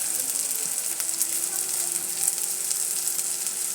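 Masala with turmeric, salt and onion-garlic chutney, cooked after tomatoes for a fresh pigeon pea kalvan, fries in a pan with a steady close sizzle and faint scraping, no talk.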